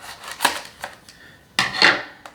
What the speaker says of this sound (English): Get my scissors here.